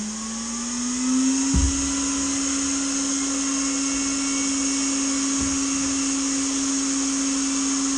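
A helmet particle separator blower inside a Maverick X3 runs at full blast with a steady, high whining hum that ramps up at the start, with a couple of dull bumps and no voices.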